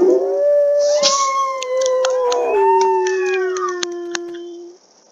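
A wolf in WolfQuest gives a long, wavering howl with bending pitch, broken by a few sharp barks toward the end, close and loud with no talk over it.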